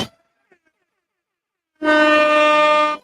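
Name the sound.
air horn sound effect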